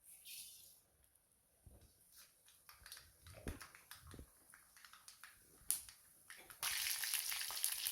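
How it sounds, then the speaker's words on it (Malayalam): Mustard seeds crackle and pop in hot oil in a pan, sparse irregular spits close by, then a dense sizzle takes over in the last second as more goes into the pan; no voices. "പാത്രം വെച്ച് എണ്ണ ഒഴിച്ച് കടുക് പൊട്ടിച്ച്"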